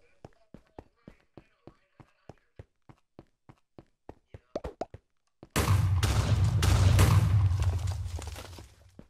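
A mob exploding near the player in Minecraft: a run of quick, evenly spaced footstep-like taps speeds up before a loud, broad blast erupts and rumbles for a few seconds, then fades.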